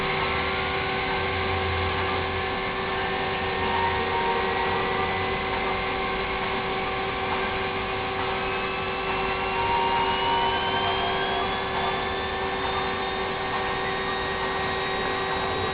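FlowerPower rotor device running with a wobbling worn rotor housing, a steady motorized hum with sustained whining tones, one tone gliding slowly upward midway, constant and moderately loud throughout.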